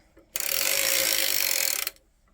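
A circular sock knitting machine cranked in one continuous run of about a second and a half, a dense close rapid mechanical clatter starting and stopping abruptly.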